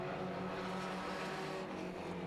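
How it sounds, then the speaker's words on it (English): The number 83 stock car screams around the track in a Rookie Bangers race, a loud, sustained high-revving engine drone held without letup. "Lots of screaming going on from the number 83 car there."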